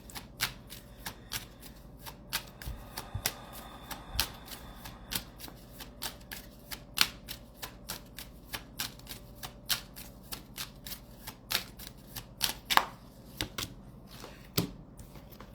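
A deck of playing cards being shuffled for a tarot-style reading, with repeated sharp riffling snaps and flicks at an irregular rhythm, close and moderately loud, no one talking over it.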